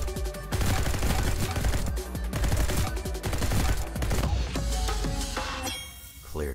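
Rapid gunfire from shooting targets in the first-person game Neon White, with dense bursts of shots, metallic clangs and dings layered over a loud game soundtrack, easing briefly before a final sharp shot.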